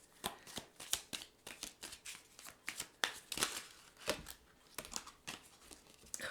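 A deck of tarot cards is shuffled by hand in quick, crisp riffles and snaps, close and distinct, with short pauses between bursts and no talk.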